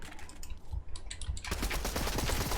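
Fortnite Chapter 3 gunfire in a bunker challenge, scattered shots at first, then a dense rapid burst of automatic fire that runs continuously to the end.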